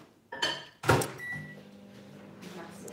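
A microwave door clunks shut and a button beeps, then the oven hums steadily close by.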